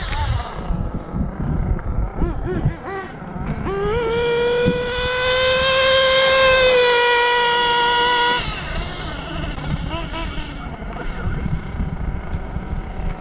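A Mugen 1/8 scale nitro RC buggy on standard buggy tires screams past on a top speed run, its high-pitched engine whine rising and then fading, amid wind rumble and distant outdoor noise.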